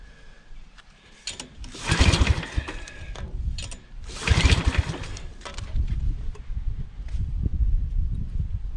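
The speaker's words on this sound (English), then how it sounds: "Let me open up the throttle here, because we're only reading like 60 psi." A Toro commercial walk-behind mower engine with a blown condition surges loudly twice and then settles into a rougher, steadily louder running sound, close by and without talk.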